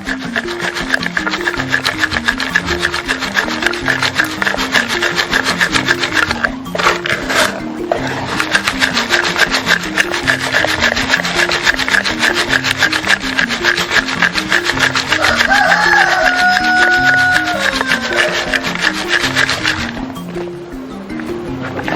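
Cassava flour being shaken through a sieve by hand, a steady rhythmic rasping and rubbing that runs continuously at close range with no talking.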